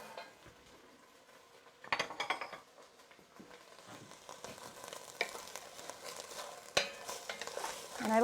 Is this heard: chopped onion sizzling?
yes